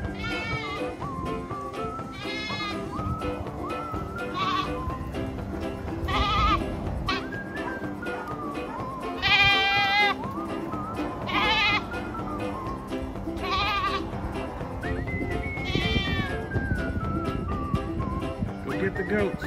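Goats bleating on a ranch where a wild mustang is being broken, a series of loud, wavering calls recurring every couple of seconds over steady background noise, with people talking in between.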